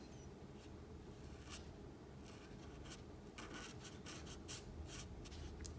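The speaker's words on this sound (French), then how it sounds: "Alors ensuite avec le jaune, on va colorier le nez." A yellow marker scratches across paper while colouring in a drawing, in soft repeated strokes that quicken into a rapid series of short rubs toward the end, faint and close, with no voices.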